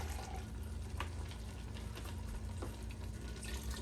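A splash of water poured into an emptied tomato sauce can and swirled around, a steady faint sloshing and trickling with a few small clinks.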